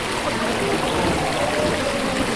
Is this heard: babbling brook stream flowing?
yes